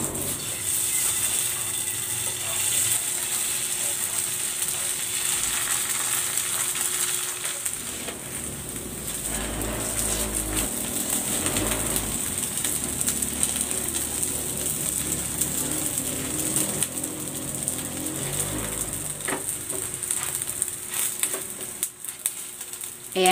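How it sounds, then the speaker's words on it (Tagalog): Tofu fries in hot cooking oil with a steady, dense crackling sizzle that carries on for the whole stretch at an even level, close by, with no one talking. "Maglalagay ako ng cooking oil. Yan, isasalang ko na dito yung tokwa."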